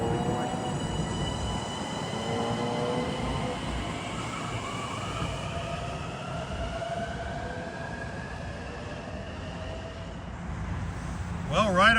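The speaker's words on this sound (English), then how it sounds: "Here comes 6251 out of the storage track." Long Island Rail Road train 6251 pulls out of a storage track toward a station with a loud, steady rumble. High wheel squeals slide in pitch throughout, and a sharper clatter comes right at the end.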